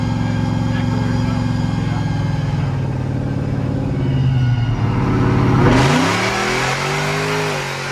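Mr. Adrenaline's truck engine runs steadily, then revs up with a rising, swelling roar before settling back into a loud, close idle; no one speaks over it.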